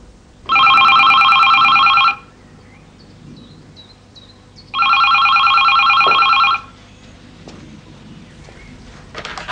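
An old-style landline telephone bell rings in two long, loud bursts with a quiet pause between them, in a domestic setting, with faint background sound and no talk.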